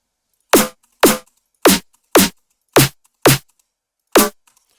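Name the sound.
snare sample layered with white noise and pitched kick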